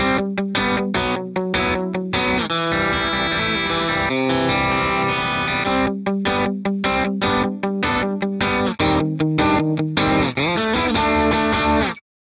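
Telecaster electric guitar played through BIAS FX 2 amp simulation with restrained distortion, giving a bright, crisp edge. Loud strummed chords ring alone in a driving rhythm with short choppy stops, then end abruptly.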